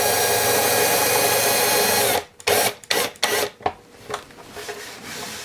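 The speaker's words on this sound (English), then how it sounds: "we can take a drill or a driver" Drill driver spinning a bolt into a wasteboard, first a loud continuous whir, then several short bursts and stops as it seats, ending in a quieter low hum.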